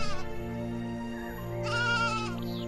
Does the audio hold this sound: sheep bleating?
yes